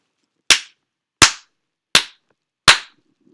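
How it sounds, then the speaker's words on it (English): Four loud, sharp hand claps spaced evenly about three quarters of a second apart, each a sudden crack pushing a GarageBand recording level to its maximum, with silence between them. "Now I'm going to clap my hands just to show you what happens when it maxes out."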